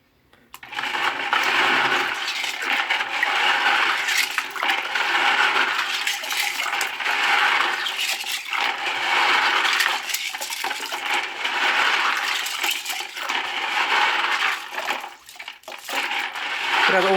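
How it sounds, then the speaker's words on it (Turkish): Aquarium filter stones rattling and clattering under running water as they are washed, a dense continuous scraping and splashing close by, with a voice talking faintly in places. "Taşları da şöyle yıkadıktan sonra taşlarımızı yıkayalım şöyle."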